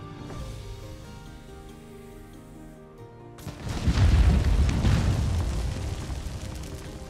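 Dragonpowder jars blowing up in the game Conan Exiles, a sudden deep boom after a quiet stretch, followed by a rumbling, crackling blast that lingers loudly for several seconds.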